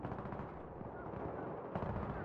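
Dense, continuous gunfire rattles through a Battlefield 3 Conquest match on a metro map, steady and loud for a couple of seconds with a sharper burst near the end.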